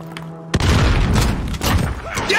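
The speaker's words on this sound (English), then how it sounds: "Throw grenade." A heavy grenade blast in a vehicle-themed video game, opening with a sudden booming thump and then a loud rumbling roar with further bangs, while voices talk over the chaos.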